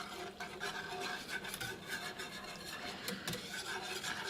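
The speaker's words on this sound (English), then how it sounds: "I've got a 1/4 cup of flour here that I will whisk in" A whisk scrapes and swishes steadily through flour stirred into a milk and chicken broth mixture, a soft, continuous rasping at close range with no talk.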